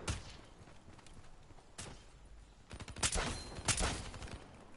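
Unsuppressed gunfire in a video game, irregular bursts of sharp cracking shots growing denser and louder toward the end, heard at middle distance with some clattering between bursts.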